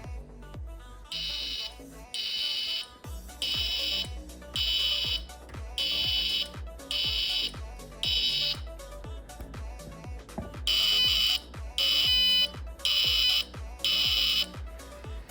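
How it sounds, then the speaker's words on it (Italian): A 12-volt electric buzzer sounds in about a dozen loud, evenly spaced bursts, each a harsh steady drone with short silences between. "perché è uno buzzer, è un buzzer ragazzi."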